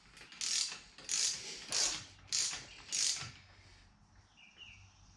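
A ratchet wrench loosening a bolt on a 1936 Ford rear fender, five rhythmic bursts of rapid clicking close by, each about half a second apart, then quiet.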